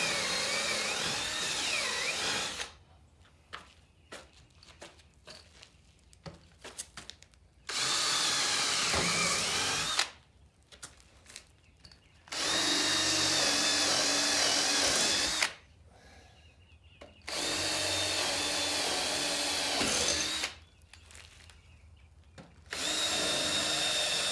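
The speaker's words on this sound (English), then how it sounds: "So the wood holes are drilled." A power drill with a wood bit bores screw holes in wood trim fastened to stabilized compressed earth blocks. It whines loudly in several separate bursts of a few seconds each, with quiet pauses between them and no talking.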